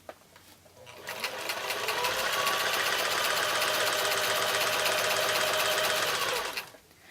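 A sewing machine runs steadily for about five seconds as it stitches a quilt block seam for an uneven nine-patch block. Its rapid, even needle clatter is close, loud and heard alone.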